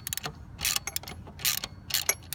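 A hand ratchet clicks in quick uneven bursts while tightening the alternator bracket bolt on a 1999 Mustang, sharp close metallic ticks in several short runs with brief pauses between.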